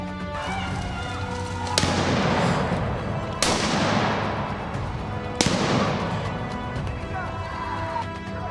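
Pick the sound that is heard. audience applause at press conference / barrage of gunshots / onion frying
barrage of gunshots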